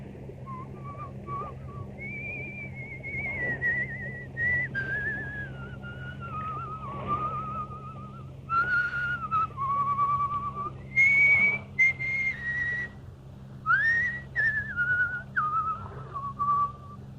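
A man whistles the tune Annie Laurie in a radio drama, a clear, close melodic whistle rising and falling in phrases over a low steady hum, with no talking.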